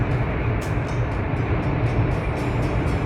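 Train passing through the Columbia River Gorge in Oregon, a steady, loud rumbling roar with faint rhythmic clicks of wheels on rail joints, continuous throughout with no voices.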